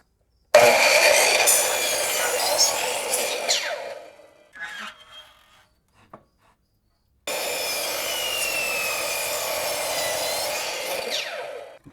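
A piece of plywood is being sawn to make a smaller secondary base for a polymer clay figure sculpture. Two loud, sustained cutting passes are separated by a brief quiet pause.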